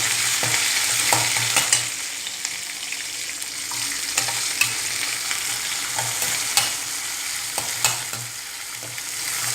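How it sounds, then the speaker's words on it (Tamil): Green chillies and curry leaves fry in a pan, giving a steady close sizzle with occasional sharp clicks and scrapes from stirring and no voices. "அப்புறம் அரிஞ்சு வச்ச மிளகாய் போடுறேன்"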